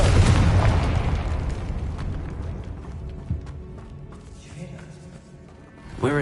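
Confringo fire spell blasting in the video game Hogwarts Legacy, set inside a tomb: a heavy, loud explosive boom up front that rumbles and decays into a low roar, with a softer thud midway and another burst at the end.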